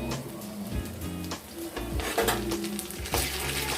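Ginger paste frying in a pan gives a continuous close sizzle, broken by repeated scraping stirs of a spoon against the metal pan.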